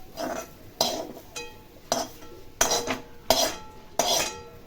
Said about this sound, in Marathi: आता एका ताटामध्ये काढून घेऊया